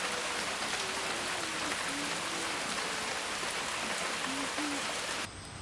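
Steady rain falls at a tent stay by the Harangi backwaters in Coorg, a dense, continuous hiss of drops on surfaces, fairly close and even throughout, cutting off abruptly at the very end.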